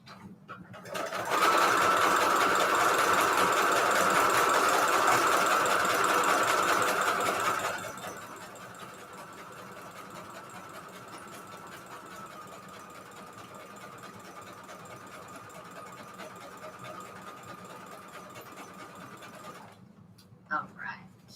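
A sewing machine sews a zigzag stitch, loud and close with a steady whirring hum for several seconds, then continues at a lower level before stopping with a few clicks near the end.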